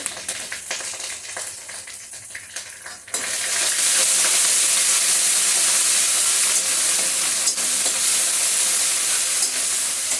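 Spices frying quietly in a pan, then a sudden loud, sustained sizzling hiss as beaten yogurt hits the hot oil, close up and continuing steadily without any talk.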